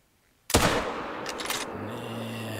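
One sharp, loud gunshot from a hunting video game cracks out of near silence and trails off into a lingering echo with a faint low tone underneath.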